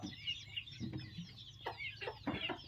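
Chickens cluck and murmur in a farmyard just before feeding time, with several short close clucks and calls scattered over a low steady background, no talking.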